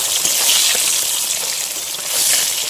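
Fish fries in oil over a strongly burning stove fire, producing a dense, crackling sizzle like heavy rain that stays loud and steady from start to finish.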